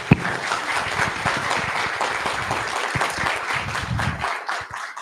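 Applause from the audience at a scientific meeting on cardiotonic steroids and the sodium pump, a close, lively patter of many hands clapping continuously, with a few louder individual claps and a slight thinning near the end.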